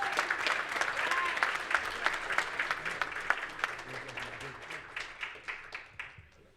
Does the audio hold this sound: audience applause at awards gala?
yes